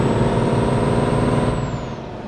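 A Scania truck with a Super engine upgrade in Euro Truck Simulator 2 drones loudly with a steady, deep engine and exhaust rumble, a faint high whine above it, easing off slightly toward the end.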